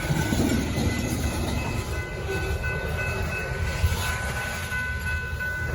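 A train rumbles past a crossing in Whitefish, Montana, a loud continuous roar of wheels and cars rolling by without a break.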